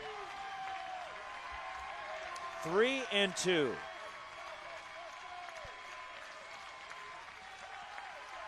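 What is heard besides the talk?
Stanford baseball crowd applauding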